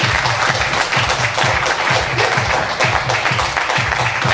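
Audience applause welcoming a performer onstage at a French live music show, steady dense clapping with crowd noise held at an even loud level throughout, over a rhythmic low thumping beat.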